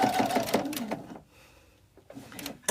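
A sewing machine stitches quilting fabric in short bursts of rapid mechanical clatter, pausing for pivoting and then starting again, close and moderately loud with a voice at the start.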